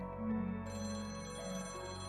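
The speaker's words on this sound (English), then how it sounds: "Then she hears something. It's the phone." A telephone rings steadily, fairly loud and close, with a bright repeating ring holding throughout and no talk.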